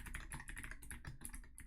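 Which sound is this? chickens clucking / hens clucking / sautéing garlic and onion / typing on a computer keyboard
typing on a computer keyboard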